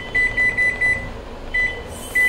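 Microwave oven beeping as its timer is set, a series of short, evenly spaced electronic beeps close by, a pause, then two more single beeps, with no talking.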